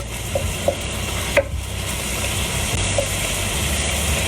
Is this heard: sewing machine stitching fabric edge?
no